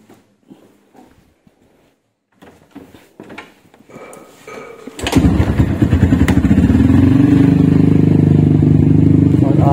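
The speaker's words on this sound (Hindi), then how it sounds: "करते हैं बाइक को कोल्ड स्टार्ट" A Suzuki Hayabusa motorcycle cold starts after a few quiet clicks and handling noises, its engine catching with a sudden loud burst and then settling into a strong, steady, close idle.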